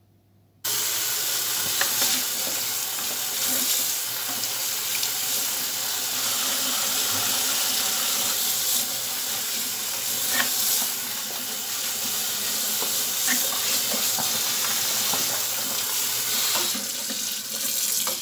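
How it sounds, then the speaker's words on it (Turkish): Green peppers freshly picked from the field are washed under a running tap, a steady rushing stream of water splashing into a sink for the whole stretch, close and even, with small knocks and splashes as they are handled. "Biberlerimiz temiz sudan güzelce yıkıyoruz."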